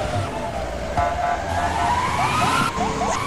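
A video game police box truck's siren wails, sweeping up and down over the steady rumble of its engine, loud and close, with a few clicks and bumps.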